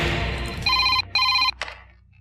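An electronic telephone ring in an action film sounds twice in quick pulses, loud and close, after a stretch of broadband noise, then a clunk and quiet.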